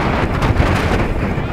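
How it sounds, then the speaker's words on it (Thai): Strong wind buffets the microphone at a seaside resort in Bang Pu, a steady broadband roar with constant low rumbling gusts and no clear voices over it. "โอ้ลมก็แรงด้วย"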